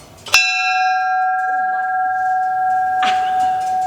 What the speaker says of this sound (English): So they have a bell here, and Susan's gonna ring it.